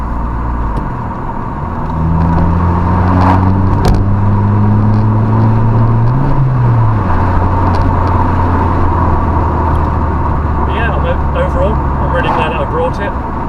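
A car engine hums steadily at idle, with a brief rise in pitch as it revs partway through, loud and close.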